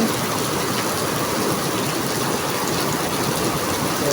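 Heavy evening rain pours steadily during a thunderstorm, a dense, continuous hiss with no pauses and no voices.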